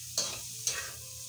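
Pork fat sizzling in a pan as it renders into cooking oil, with two sharp stirring scrapes over a soft steady frying hiss, close by and without talk.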